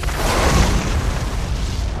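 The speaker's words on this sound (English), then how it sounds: "Why was this explosion so fucking big?" A grenade explosion from the 2010 film Predators plays as a dense, loud, sustained boom with heavy low rumble. The blast fills the whole stretch at a steady level without a sharp attack, as though it is already mid-roar.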